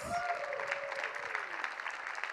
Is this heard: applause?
yes